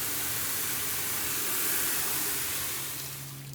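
A shower-style water spray hisses steadily while rinsing dirt out of boat carpet, a close, continuous broadband wash that tapers slightly at the end.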